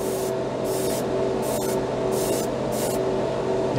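An airbrush sprays Vallejo paint in five short hissing bursts at an even rhythm over a steady compressor drone, close and fairly loud.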